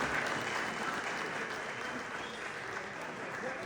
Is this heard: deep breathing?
no